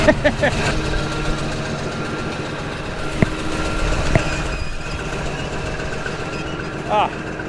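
A Caterpillar D11 bulldozer with straight-pipe exhaust idles at a dam-building site, a steady low rumbling drone throughout with a couple of sharp clanks and a brief squeal near the end; someone talks over it.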